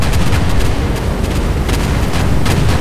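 Heavy cannon fire from an Abrams tank against an alien tripod in the War of the Worlds combat game, heard as a dense, continuous wash of booming blasts and rumbling battle noise with no clear single shot standing out.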